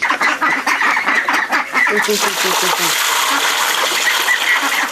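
A busy farmyard chorus of clucking chickens and quacking ducks, dense and continuous, with several birds calling at once close by.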